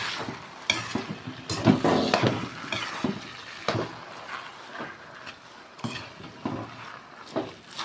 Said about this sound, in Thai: ผัดให้มันเข้ากันนะคะ